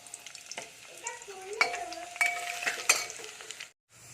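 Potato, onion and spices being stirred in hot oil in a pan, a close sizzle with scraping spatula strokes and clinks for several seconds before it cuts off abruptly.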